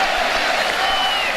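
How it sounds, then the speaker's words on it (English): A football stadium crowd at Rutgers roars in a steady wash of cheering and applause, loud and sustained, with a commentator's voice faintly under it. "And this crowd erupted."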